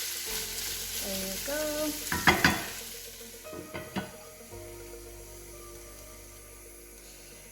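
Bacon and chorizo sizzling and frying in a pan while being stirred, with a few sharp utensil scrapes and clinks near the middle, then a steady low sizzle; a voice speaks briefly.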